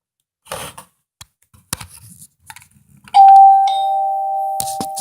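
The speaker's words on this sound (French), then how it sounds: "il y a la sonnette" Electronic doorbell on a Playmobil toy house rings once with a clear sustained tone after some faint handling clicks and taps, close and alone.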